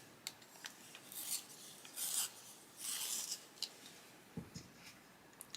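Colouring pencil being sharpened, a series of faint scraping, rasping twists in short bursts, close and quiet with no talking.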